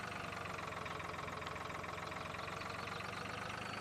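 A small tractor engine idles steadily in Farming Simulator 2013, a constant mid-pitched drone with a faint rhythmic knock, loud and unbroken with no talking.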